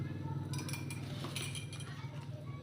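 A metal tablespoon scoops table salt from a container in a home kitchen, giving faint, close clinks and light scraping scrapes over a low background hum.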